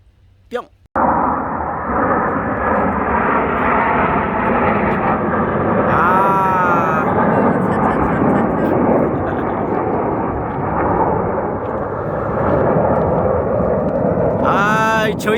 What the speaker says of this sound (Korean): 저희는 매년 공짜로 에어쇼를 보고 있습니다.